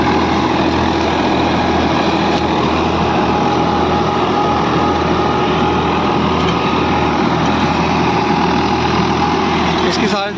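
A Massey Ferguson tractor engine runs steadily and loudly throughout, a constant droning hum, with someone talking over it.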